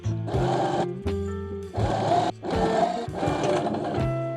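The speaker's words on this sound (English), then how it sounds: "do a zigzag stitch on both of these together" A home sewing machine running a zigzag stitch while two layers of sweatpants fabric are joined, heard in several close bursts of steady whirring motor with short pauses between runs.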